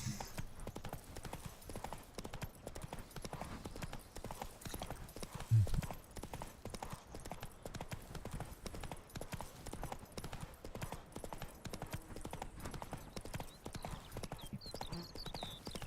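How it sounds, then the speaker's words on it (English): Horse hooves clip-clop steadily through the whole stretch as a horse is ridden in the video game The Witcher 3: Wild Hunt, a continuous rhythmic trot at moderate loudness with a brief brighter knock midway and no talking. "Giddy up. Can Roach jump across this?"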